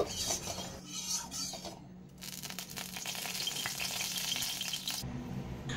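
Oil heats in a wok for frying soybean chunks, giving a steady close sizzle and crackle with scraping and clinking of a utensil against the pan, briefly dipping before resuming.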